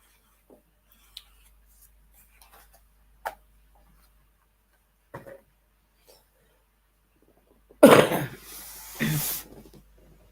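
A couple of loud, harsh coughs burst out close by after mostly quiet stretches broken by small faint ticks and clicks.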